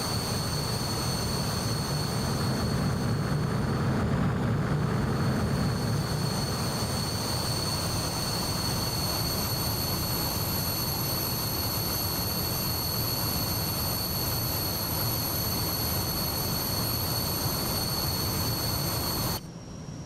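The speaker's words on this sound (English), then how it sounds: "we now can have a nice smooth takeoff compared to what we had in the beginning there" Aircraft takeoff in Microsoft Flight Simulator 2024 with a crosswind, a steady loud jet engine roar with a low rumble and high whine that holds throughout, alone without talk.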